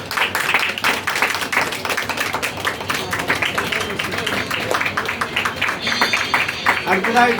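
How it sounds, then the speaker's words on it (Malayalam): An indoor audience at a shop opening event applauds, producing dense, continuous clapping that stays fairly loud and even from start to finish. "ഒരു നല്ല ക്ലാപ്പ് കൊടുക്കാം."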